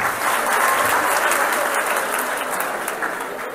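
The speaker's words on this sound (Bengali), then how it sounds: "ওর জন্য একটা জোরে করতালি চাই।" Loud, sustained applause from a crowd at a public speech event in Bhola, Bangladesh fills the whole stretch. The dense clapping eases off slightly toward the end, with no clear talk over it.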